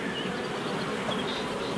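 Honey bees buzzing inside a beehive super, a steady dense hum with no break, close and moderately loud, no voices.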